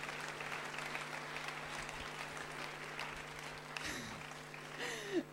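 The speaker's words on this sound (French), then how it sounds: "On applaudit Sandrine." Audience applause for a woman named Sandrine at an outdoor village TV event in Bletterans, steady dense clapping through the whole stretch with a few faint voices rising near the end.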